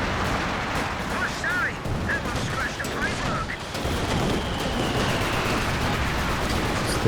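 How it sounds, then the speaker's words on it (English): Phosphorus artillery barrage landing in a Company of Heroes 2 match, a steady rumbling wash of distant shell impacts and crackling bursts running throughout, with a commentator's voice talking over it. "Use that phosphorus barrage."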